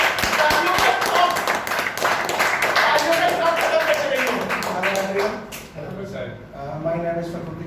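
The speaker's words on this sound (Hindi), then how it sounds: "बहुत बढ़िया सर, एक बार जोरदार तालियां दीजिए।" An audience at a DNRS business meeting claps for a speaker, with rapid, sharp claps from a room of people, loud at first and then thinning, while a person talks over them.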